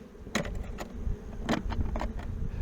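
Honey bees buzzing around a hive being cut out of a front porch column, a steady drone with several louder passes of individual bees close by.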